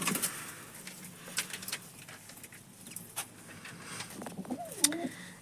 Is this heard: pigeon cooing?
yes